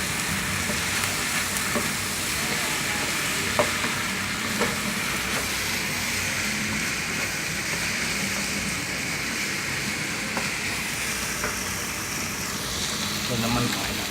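A wok stir-fry of Thai food, holy basil leaves going into the hot pan, steady loud sizzling with faint clinks of a spatula throughout and a voice talking over it.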